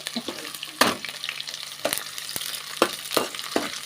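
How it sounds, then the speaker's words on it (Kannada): Two medium sliced onions fry in a pan for a chicken gravy, with a light sizzle broken by sharp, irregular scrapes and clacks of a spatula stirring them, close and without speech. "ಗೋಲ್ಡನ್ ಬ್ರೌನ್ ಬರೋವರೆಗೂ ಫ್ರೈ ಮಾಡ್ಕೋಬೇಕು ಈರುಳ್ಳಿನ."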